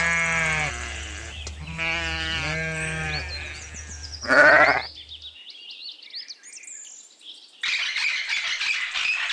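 Several sheep bleat in a row of wavering, nasal calls up close, followed by a sharp squawk and high, bird-like chirping in the background.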